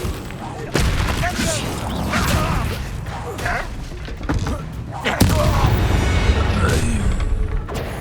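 Confringo curse blasts in Hogwarts Legacy, two heavy booming explosions with crackling rumble and whooshes, loud and close, amid ongoing combat noise with a voice shouting the spell.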